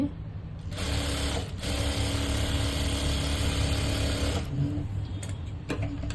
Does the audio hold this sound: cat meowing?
no